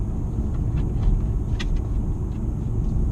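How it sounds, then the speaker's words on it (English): A supercharged Jaguar XE AWD exhaust gives a steady low drone from inside the car, a continuous rumble with slight swells and no sharp bursts. "I love the exhaust sound of this car."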